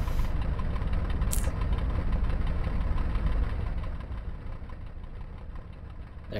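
Loud, steady rumble of vehicle engines idling and running in the World War II Online game, filling the whole stretch with constant low droning vibration that eases slightly toward the end, with a brief higher whine early on.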